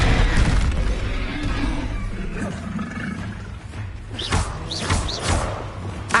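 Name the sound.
Bombarda blasting spell impact in video game Hogwarts Legacy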